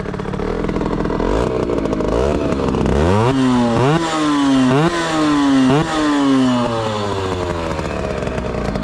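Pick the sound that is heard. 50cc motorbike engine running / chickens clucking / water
50cc motorbike engine running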